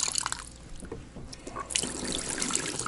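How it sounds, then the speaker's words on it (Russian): Water trickles and splashes from a kitchen tap at close range, a soft irregular stream that grows fuller toward the end, with no speech. "Здесь какой-то кран."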